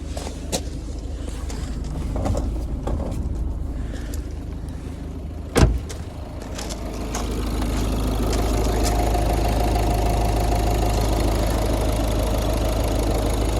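A cold Ford Focus Titanium 2013 with a 1.6 HDI diesel engine idles steadily with a low, even rumble, broken by a single sharp knock partway through, then settles into a slightly louder, continuous hum.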